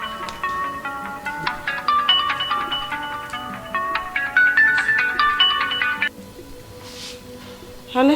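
A mobile phone plays a melodic electronic ringtone, a bright tune of quick repeated notes that rings loudly for several seconds and then stops, leaving a quiet indoor room.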